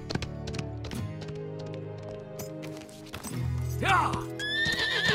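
A saddled horse neighs loudly over clip-clopping hooves, with a burst of music and a voice cheering briefly near the start.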